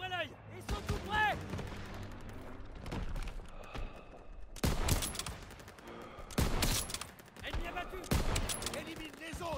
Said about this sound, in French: J'ouvre le feu!